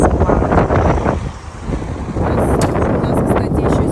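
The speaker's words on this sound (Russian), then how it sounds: "У нас, кстати, еще сегодня очень-очень ветрено." Strong wind gusting on a Japanese holiday trip on Hokkaido, a loud continuous roar buffeting the microphone throughout, easing briefly midway then rising again, with no talk.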